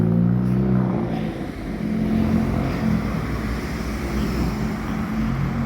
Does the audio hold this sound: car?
yes